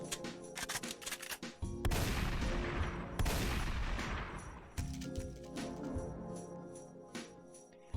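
Spaz 12 shotgun blasts in the video game Daybreak 2, firing in heavy, booming bursts that roar loudly and then trail off into rumbling echoes, with a lingering ambient music bed underneath.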